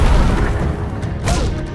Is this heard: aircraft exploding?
yes